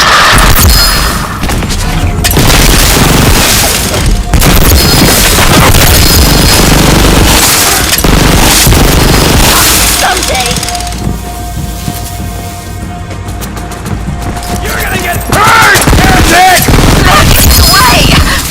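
Gunfire and explosions from the video game Borderlands 3 fill a chaotic combat scene with dense booming blasts and rattling shots, mixed with shouted game voices over continuous loud noise.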